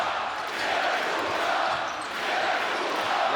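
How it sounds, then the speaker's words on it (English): A basketball crowd at a Eurobasket 2015 game between the Czech Republic and Lithuania keeps up a loud, rhythmic chant for Lithuania, swelling in waves across the arena. "Letuva is the cry from the crowd"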